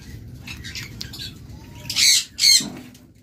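Pet birds kept in a bird seller's cages give out two loud, close squawking bursts after a stretch of faint chirping over low background noise.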